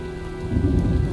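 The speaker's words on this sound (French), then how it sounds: "Je crois qu'un orage se prépare." Heavy rain and a rumbling thunderstorm from the video game Heavy Rain, a steady close wash of rainfall that swells louder with a low thunder roll partway through, with no voices.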